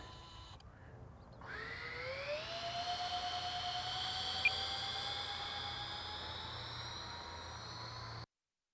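Twin 40mm electric ducted fans on an E-flite F-14 Tomcat RC jet spool up into a loud, rising whine that climbs in pitch and holds steady through the takeoff run before cutting off abruptly.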